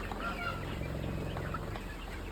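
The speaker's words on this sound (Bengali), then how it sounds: "মুরগিগুলা খাবার খাচ্ছে" Chickens being raised for meat cluck together while eating feed, a steady, fairly soft murmur of overlapping calls that runs through the clip.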